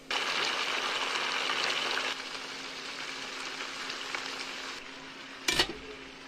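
Onion and vegetables frying in a pan for a spring roll filling: a close, steady crackling sizzle that drops a little in level partway through, with a brief sharp clatter near the end.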